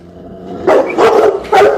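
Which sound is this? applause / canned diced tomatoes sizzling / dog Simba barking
dog Simba barking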